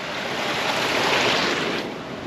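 Clear, limpid stream water funnelling down a narrow channel in Tapolca, a steady, full rushing wash that holds an even level throughout, close by with no voices.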